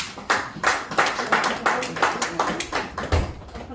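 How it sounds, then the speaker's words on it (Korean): A crowd welcoming a speaker at a talk claps in a steady, rhythmic beat, with about ten even claps close by and nobody speaking. "큰 박수로 맞아주시죠."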